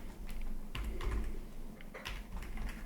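Typing on a computer keyboard while entering a function in Power Query, a close run of quick, uneven key clicks with a few sharper taps, heard alone without talk.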